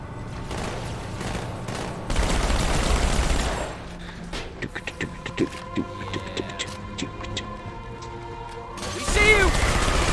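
A battle rifle fires in Halo Infinite, with rapid bursts of sharp cracks in uneven clusters amid game effects, explosions and rumbling. A voice talks over the gunfire.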